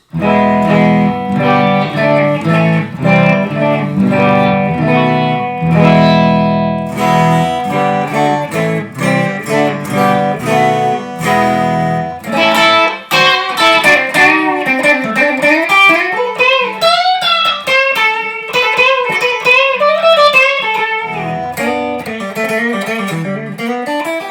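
A clean Gibson Les Paul electric guitar with the toggle switch in the middle, both pickups engaged, plays chords and then a melodic single-note line, ringing and undistorted, loud and close throughout.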